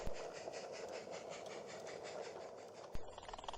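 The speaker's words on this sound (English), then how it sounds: "At the sand quarry, number 6 departs with the now loaded hopper wagons." Narrow-gauge locomotive number 6 pulling away from a sand quarry with loaded hopper wagons on a light railway, a faint, steady running rumble with rhythmic wheel clicks and a sharp knock near the end.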